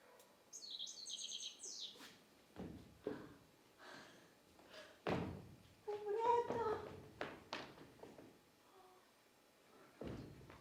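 A bird gives a brief burst of high chirps near the start, then a mix of people talking, thumps and taps follows.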